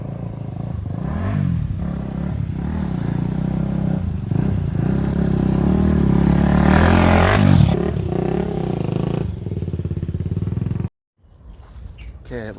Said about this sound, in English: I think I hear a motorbike.